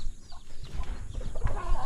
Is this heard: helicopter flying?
no